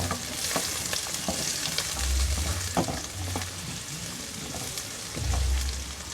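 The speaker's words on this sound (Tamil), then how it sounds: "லைட்டாக வதங்கினதும் இந்த குடமிளகா வெங்காயம் ரெண்டுத்தையும்" Capsicum and onion sauté in a pan for chilli chicken, giving a continuous close sizzle broken by repeated scraping stirs.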